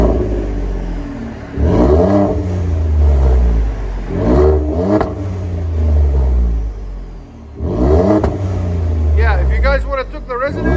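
A Ford F-150 with the 3.5L EcoBoost twin-turbo V6, muffler deleted and resonator left on, revs in three loud, deep, swelling pulls that rise and fall in pitch, the last ending in rapid crackles and chirps, with someone talking in between.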